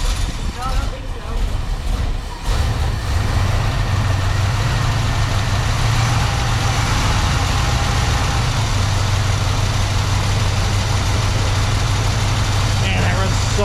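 A leaky Chevy C-10 pickup truck engine idles close by after a short start, holding a loud, steady low rumble with a brief voice near the beginning.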